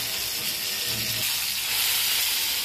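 Stuffed bombil fish rolls filled with prawns shallow frying in a pan give off a steady, close sizzle with a bright hissing spread, growing slightly louder toward the end with no voices.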